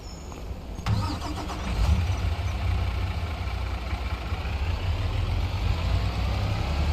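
A truck engine in Farming Simulator 25 cranks with a brief rattle, catches, and settles into a steady, low, rumbling idle heard up close and alone.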